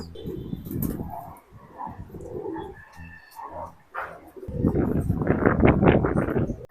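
Racing homer pigeons in a loft coo in low, throaty bursts, close and fairly loud, with a stronger stretch of cooing toward the end and faint voices in the background.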